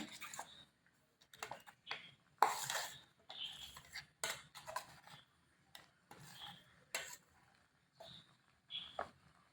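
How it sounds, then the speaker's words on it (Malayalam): Roasted coconut is tipped into a pan and stirred for koottu curry, giving irregular close clinks and scrapes of a spoon against metal with short quiet gaps between. "തേങ്ങ വറുത്തത് ഇതിലേക്ക് ഇട്ട് കൊടുക്കുന്നുണ്ട്"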